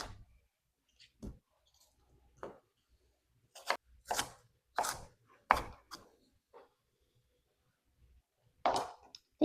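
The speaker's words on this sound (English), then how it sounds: "the onion just has to be cut" An onion is chopped into chunks on a cutting board with a knife, giving scattered sharp knocks in irregular bursts over about nine seconds, close by and quiet between strokes, with no talking.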